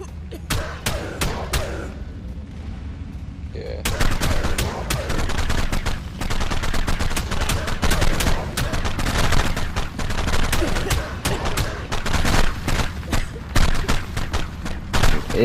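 Rapid gunfire from players shooting in ARK on PS5, loud close bursts of sharp shots that pause briefly and then resume densely, with people talking over it.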